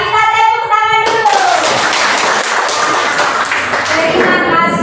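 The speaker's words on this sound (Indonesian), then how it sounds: "Kita tepuk tangan dulu." Schoolchildren in a classroom clap their hands together in a loud, dense burst of clapping lasting several seconds, with a sung or spoken voice just before and after.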